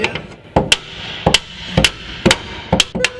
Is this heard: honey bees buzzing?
no